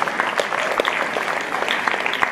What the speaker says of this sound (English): a big hand of applause for the all incredible participants